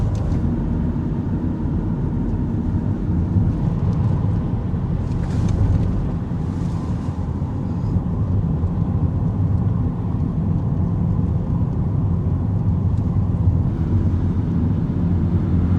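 A car rolls steadily along a country road, a constant low rumble of engine and tyres with some wind buffeting over nearly sixteen seconds, no voices.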